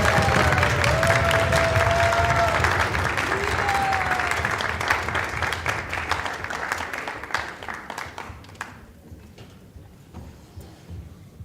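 A large audience at a celebration applauds the Bhakti Choir with dense, sustained clapping and some foot stamping and cheering, loud at first and gradually thinning out to scattered claps.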